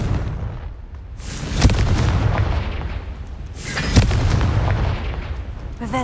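Confringo fire-blast spell cast in Hogwarts Legacy, two loud booming bursts about two seconds apart over a dense rumbling game soundscape, with no talk.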